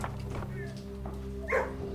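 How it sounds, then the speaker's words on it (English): Dogs in the video game Blue Prince give one short bark partway through, set over a steady low tonal game hum, with a person talking briefly nearby. "Dogs?"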